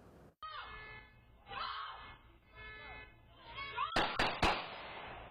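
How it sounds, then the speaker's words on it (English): Night street chaos on Darlington Street near midnight Saturday outside a rental property: distant yelling and wailing car alarms build up, then three sharp loud gunshot cracks in quick succession near the end. "Gunshots, car alarms, and yelling filling Darlington Street just before midnight Saturday"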